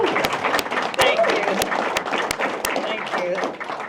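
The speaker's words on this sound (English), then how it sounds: "You're supposed to clap right now, give her love." Audience at a Kansas football press conference applauding a special guest's 100th birthday, scattered close claps over a murmuring crowd, with talk running underneath.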